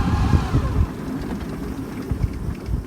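A Sinclair C5 electric trike driving under throttle outdoors, a steady low whirring drive with road and wind rumble throughout, no speech.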